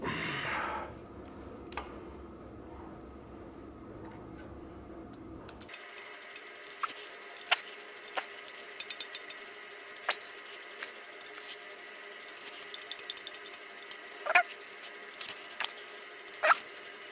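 Screws being driven in and torqued to 10 Nm on a BMW R50 motorcycle engine, a scatter of small sharp metallic clicks and ticks at close range over a quiet background after an initial stretch of hiss.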